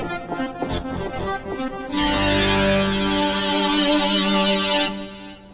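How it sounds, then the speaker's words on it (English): Kurzweil K2600 keyboard playing an arpeggiated synth program through a chorus delay effect, with rapid repeating notes giving way to a sustained, echo-laden chord that rings steadily, then cuts off near the end. "Switch button 1 turns on the arpeggiator. And switch 2 increases the amount of echo in the chorus delay effect."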